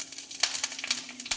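Panch phoron five-spice seeds, with chilli and bay leaf, hit hot oil for mung dal with pumpkin, giving quick irregular crackles and pops over a close sizzle.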